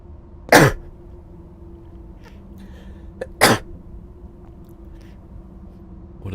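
Two sharp, loud sneezes burst out about three seconds apart over a quiet room hum, with no other voices.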